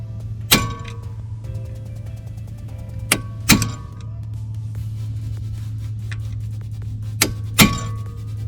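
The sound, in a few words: hammer tapping tool to lock wheel hub in place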